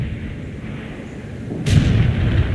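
An artillery strike lands in a war video game, a sudden heavy boom that breaks over a low rumbling battlefield backdrop and then rolls on as loud, deep, sustained thunder.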